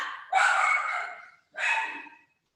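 Dogs at home let out two separate barks, each drawn out and tailing off, loud and close, with quiet in between.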